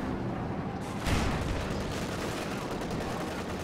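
Mortar barrage in the strategy game Company of Heroes 2: a dense, rumbling wash of battle noise with a sharp blast about a second in, followed by continuous distant booms and crackling fire, fairly loud throughout.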